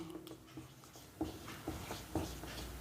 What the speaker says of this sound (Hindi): यहां पे लिखेंगे चार्ज